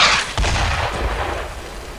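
Anti-tank fire and explosions in a World War II video game: a deep, heavy boom opens the moment, followed by a second blast and a rumbling low-end battle roar that slowly fades.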